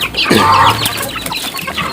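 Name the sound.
chickens clucking in coop at feeding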